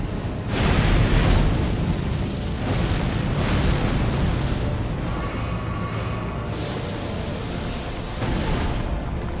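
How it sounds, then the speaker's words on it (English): Explosive blasts in Elden Ring Shadow of the Erdtree, a series of loud booming bursts rolling over each other with rumbling low-end and crackling debris, sustained through the whole stretch without speech. "I need to like actually get this explosion timing right"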